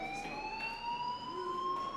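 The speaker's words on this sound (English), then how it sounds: "Hey, do you hear that fire alarm? That means you should be outside." Continuous electronic siren of a school fire alarm from the video game Life Is Strange, a sustained rising tone held steady and loud for the whole stretch, with faint background game ambience beneath.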